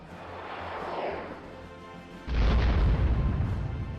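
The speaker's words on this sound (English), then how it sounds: "I'm gonna go ahead and hit this with a nuke." Nuclear strikes hitting ships in a Soviet-era naval video game battle near Alaska: a soft whoosh, then a sudden heavy boom that rolls into a loud, sustained rumbling roar.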